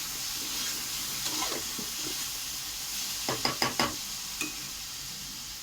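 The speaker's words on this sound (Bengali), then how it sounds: "একটুখানি নেড়ে চেড়ে ভালো করে ভাজবো, কষিয়ে নেওয়া হবে।" Spices and green chilli paste sizzle in a hot pan for a curry of fish roe, potato and green banana, a soft steady hiss broken by a quick run of spoon scrapes and taps near the end.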